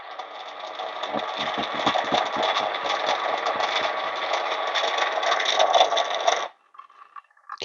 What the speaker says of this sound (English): Can hear the beans is still moving inside.